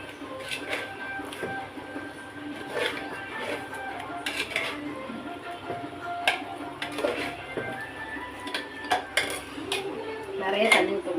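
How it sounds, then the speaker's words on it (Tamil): Metal spoon stirring and scraping mutton chukka in a pan, with repeated clinks and clatters at an irregular pace, close and fairly faint, with occasional quiet background sounds. "சுக்கா நல்லா கிளறி விட்டுலாம்."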